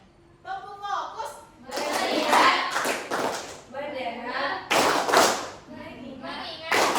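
A classroom of pupils claps a patterned focus rhythm, bursts of several sharp hand claps separated by brief gaps, with children's voices mixed in.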